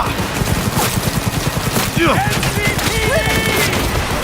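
Rapid automatic gunfire in the video game Cyberpunk 2077, a dense, loud fusillade of repeating shots running throughout, with whistling effects and a voice briefly mixed in.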